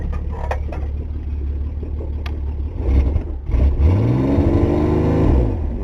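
A Ford engine, just after its spark plugs were cleaned, cranks and catches, then revs up and settles back in a rising and falling whir, close and loud with no talk.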